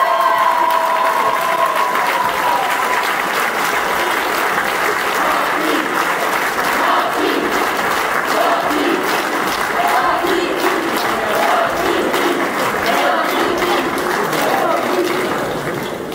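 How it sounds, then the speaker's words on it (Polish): Sustained applause from an indoor crowd at an under-14 basketball championship award ceremony in Toruń, honouring the tournament MVP; dense, even clapping fills the whole stretch without pause. "Wielkie brawa na MVP turnieju."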